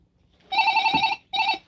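A cruise ship cabin telephone rings in two electronic bursts, the first longer and the second cut short after a brief gap, loud and close in a quiet room with no talk.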